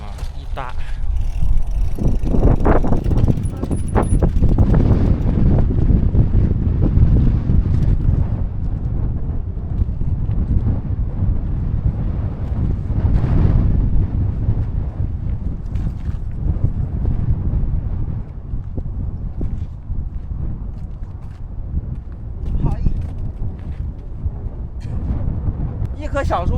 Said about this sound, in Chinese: 毕竟今天晚上的风有点大嘛